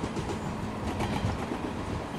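A WAP7 locomotive hauling the Paschim Express on a Himachal route in Trainz Simulator, heard from the cab as a steady, dense rumble of running wheels with faint rhythmic clatter throughout.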